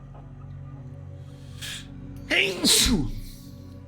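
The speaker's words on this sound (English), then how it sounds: "I just like sneeze in Sophia's face." One person sneezes once into a microphone, a sharp explosive burst after a short breathy intake, heard over steady background music from the game Fallout.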